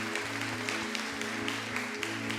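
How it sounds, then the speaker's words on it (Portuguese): Steady applause from a church congregation fills the space at a moderate level, with a constant low hum underneath. "Pode aplaudir o Senhor."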